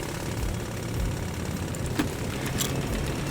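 Steady drone of an airliner engine running at constant power, with the left engine failed and the right engine throttled up, broad and continuous with a couple of faint clicks over it.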